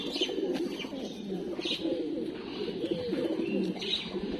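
Pigeons belonging to a racing-pigeon club coo steadily and close by, their low rolling calls repeating continuously alongside a few faint chirps, with no voices over them.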